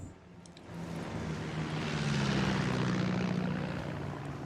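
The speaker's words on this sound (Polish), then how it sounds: "Samolot sobie tam jakiś leci." Propeller airplane droning overhead in the Far Cry 6 video game, a steady continuous engine hum that swells slightly and holds, moderately distant, with no speech.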